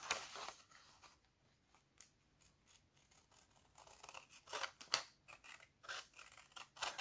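Scissors snip along a paper pattern tab, cutting quickly in a run of short, crisp bursts that grow denser near the end; nearby and fairly quiet, with no talking.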